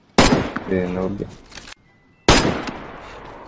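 Tundra rifle shots fire in the video game DayZ during a deer hunt, with two sharp, loud bursts separated by a short silence and a voice briefly heard between them.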